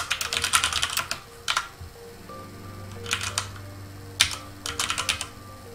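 Rapid bursts of keystrokes on a computer terminal keyboard, used to enter commands into a vintage IBM OS/VS1 mainframe system, come in several clustered runs separated by short pauses against a steady low machine hum.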